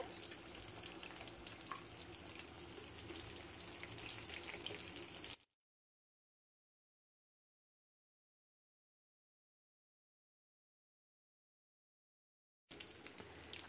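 Chinese mixed vegetable cutlets frying in a pan give a soft, steady sizzle for about five seconds, then a long silence before the quiet frying resumes.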